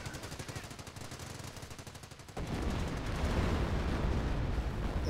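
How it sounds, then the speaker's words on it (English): Rocket barrage pounding an American base in a strategy video game: a rapid rattle of repeated blasts gives way to a loud, sustained roar of explosions and rumbling debris, dense and continuous with no voices. "And now a rocket barrage on the American base."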